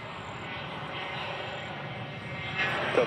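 A Southwest Airlines Boeing 737-7 airliner departing from Nashville International Airport, heard as a steady, loud broadband engine roar throughout that swells slightly toward the end, with no talk.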